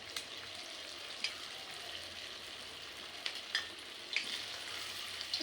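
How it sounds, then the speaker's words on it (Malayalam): Cauliflower pieces fry in hot oil for chilli gobi with a continuous close sizzle, dotted with small pops and crackles as more pieces go in. "ചൂടായ എണ്ണയിലേക്ക് ഫ്ലവർ ഇങ്ങനെ ഓരോന്നായിട്ട് ഇട്ട് കൊടുക്കുക."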